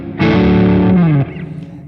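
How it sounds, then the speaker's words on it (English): A guitar played through the blues overdrive setting of a practice amp gives one sustained, moderately driven chord or note held about a second, then cut off with a short ringing decay. "Right now it's called a blues overdrive."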